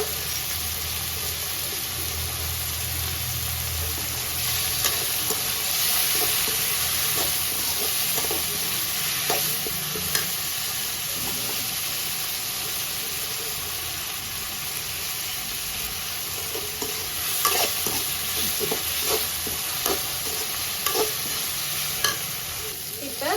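Spices with turmeric powder sizzle and fry in a pan for a dry fish curry while a utensil stirs and scrapes now and then, a constant close hiss underneath.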